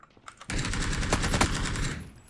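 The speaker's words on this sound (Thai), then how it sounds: "โอ้โหพี่อุ้ยยิงไม่แบ่งกันเลยดิ" Rapid automatic gunfire in the PUBG battle royale game, a dense burst of shots starting abruptly after a brief quiet moment and rattling continuously for about two seconds, loud and close with no talk.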